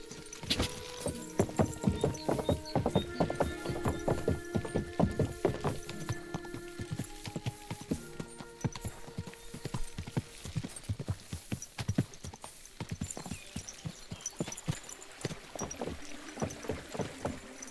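Horse hooves clip-clop steadily at a brisk walking rhythm in Kingdom Come: Deliverance II, close and continuous, with faint tack jingles beneath.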